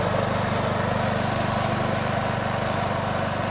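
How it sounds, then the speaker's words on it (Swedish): A lawn mower cuts grass on a Swedish farmstead, its engine droning steadily and loud up close for the whole stretch, with a constant low rumble and no break in the running. "då kan jag klippa gräset"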